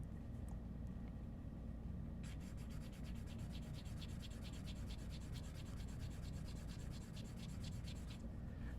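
A plastic Mohs hardness pick scrapes across a screen protector on an iPad Pro 13-inch, producing a faint, steady rasping rub with rapid ticking scratches over a low background hum, no voices.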